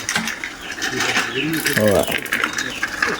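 A bicycle crank with a broken bearing turns while being ridden, giving a close, repetitive ratcheting and grinding clatter with brief voices mixed in.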